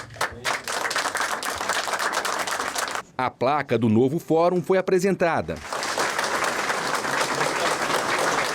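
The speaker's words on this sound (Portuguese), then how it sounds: "A fita inaugural foi descerrada sob aplausos" Crowd applause at the ribbon-cutting inauguration of a new courthouse, steady dense clapping at the start, then a narrator's voice speaking over a pause, after which the clapping returns and holds to the end.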